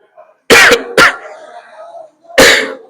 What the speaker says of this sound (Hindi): थोड़ा सा खांसी हो गया है